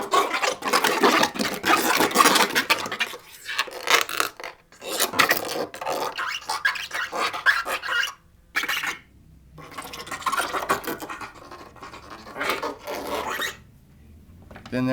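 Tom Nunn's skatchbox scraped with short, football-shaped super combs gives fast, bursty raspy scratching and rubbing, loud and close, in irregular flurries with brief pauses and no talk.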